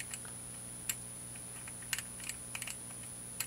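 A Master Lock combination lock dial gives faint, sparse clicks at irregular moments over a quiet background, close by.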